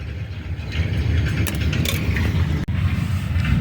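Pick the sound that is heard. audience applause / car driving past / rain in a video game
car driving past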